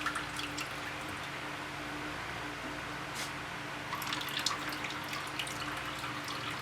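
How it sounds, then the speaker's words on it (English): Water drains and drips steadily from a handmade paper mould, a soft continuous trickle with scattered faint drips, close and quiet with no talk. "So I'll wait for that to sort of go to a drip"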